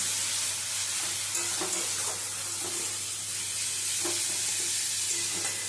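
A paste of garlic, green chili and white sesame fries with taro in a pan, a steady low sizzle broken by soft stirring scrapes and clinks, with nobody speaking.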